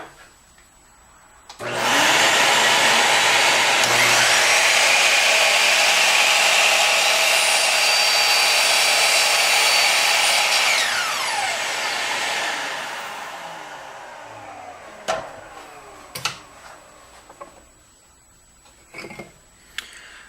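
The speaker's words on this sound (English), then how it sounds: "I'm getting set up here to make the new cut, the cut with the new blade" A miter saw fitted with a new Forrest Chopmaster blade spins up and cuts through wood in one loud, sustained whine of about ten seconds, then winds down, followed by a few sharp clicks and knocks.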